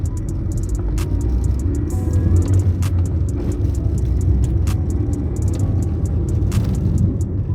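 A Honda City Type Z car drives with a steady, loud engine drone and road rumble heard from inside the cabin, with sharp clicks and rattles scattered over it and no voices.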